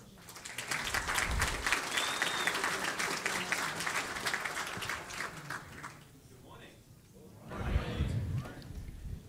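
An audience at a business forum applauds as a speaker is welcomed onto the stage, with dense, sustained clapping that thins toward the end, while a few voices and some stage noise break through.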